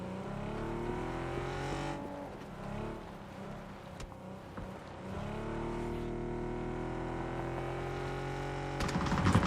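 Steady in-game vehicle engine drone while driving in PUBG, a continuous mid-level rumble with shifting pitch as the car speeds up and slows, a brief dip near the middle, and a louder burst at the very end.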